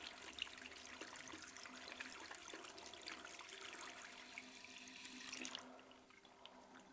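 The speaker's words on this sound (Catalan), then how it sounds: "Aigua del bidet." Water runs from a bidet in a steady, faint, hissing stream that drops off near the end, with no voices.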